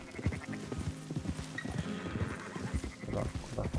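Horse hooves clip-clop steadily in a Red Dead Redemption game scene, a close rhythmic trot with a short whinny partway through, over faint background sound.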